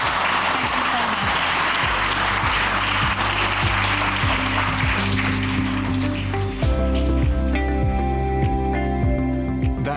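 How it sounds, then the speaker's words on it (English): Audience applause for a four-member panel at a dementia and palliative care conference, a steady wash of clapping that carries on under a layer of music with a few voices mixed in. "Give them a big clap"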